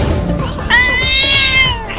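A cat gives one loud, drawn-out meow close by after a brief stretch of background noise.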